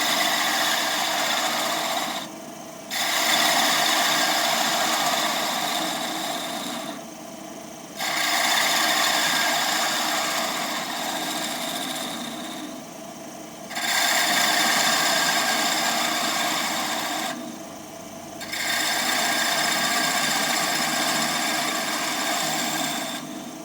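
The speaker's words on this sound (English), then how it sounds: "Every one of these cuts, I'm going in and riding the back of this bevel right along that wood." A woodturning gouge rides its bevel along a spinning 2x4 blank shaped into a goblet on the lathe, giving long raspy cutting passes of several seconds each, separated by brief pauses, close and steady.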